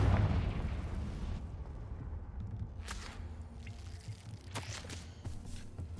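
A Confringo fire spell fired in Hogwarts Legacy, heard as a loud blast at the start that fades into a rumbling tail, followed by scattered sharp crackles and impacts over a steady game soundscape.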